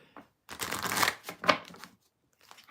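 Tarot cards being shuffled by hand in bursts of riffling and sliding, close and clear, with short pauses between passes and a sharper final snap.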